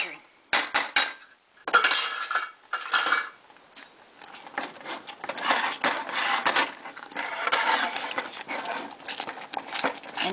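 Homemade chocolate fudge with butter is beaten in a pan, producing bursts of clattering, scraping spoon strokes against metal, irregular and loud, broken by short pauses, with faint voices at moments.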